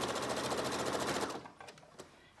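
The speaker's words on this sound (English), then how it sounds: "I'm going to stitch forward a few stitches in reverse, and then I'm gonna just stitch all the way around the top." A sewing machine stitches around the top of a fabric beach bag, running steadily and loud for just over a second before stopping, followed by a few faint clicks.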